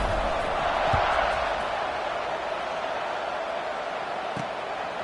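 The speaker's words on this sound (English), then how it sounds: "this crowd is buzzing after that last score" Stadium crowd in a football video game, a steady broad roar and buzz of many voices sustained throughout, loud and continuous, with a few faint thumps underneath.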